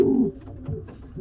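Pigeons pairing up in a cage: a close, soft cooing call with a low warble, followed by a few quieter answering coos.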